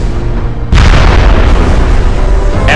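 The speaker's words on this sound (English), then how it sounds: "Mortars, cannons," Cannons and mortars fire in a Medieval II: Total War siege scene: a sudden deep boom that swells into a loud, sustained rumbling roar of artillery, with no talk over it.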